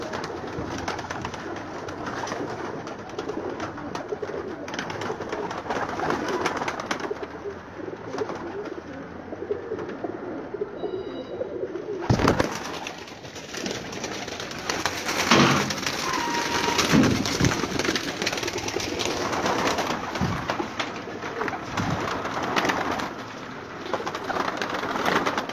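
Pigeons cooing from a rooftop loft, soft repeated coos and bird calls heard steadily throughout over constant outdoor background hiss.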